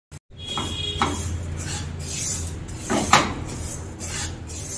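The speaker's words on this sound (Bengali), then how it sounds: "সুজিটাকে ভালো করে একটু ভেজে নেব 5-7 মিনিট সময় ধরে" Semolina is stirred and dry-fried in a pan, with a spoon scraping and clinking against the metal in a steady back-and-forth rhythm, close and fairly loud.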